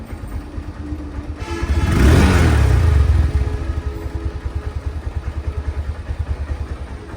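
A secondhand Honda Hornet motorcycle engine runs steadily nearby, its rapid pulsing idle swelling into a louder, rougher rev for about a second before settling back to an even throb, with no talk over it.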